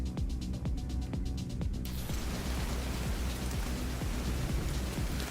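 Steady rain in the video game The Division 2 hisses and patters across surfaces, a dense, continuous wash of falling drops with faint mechanical clicks underneath.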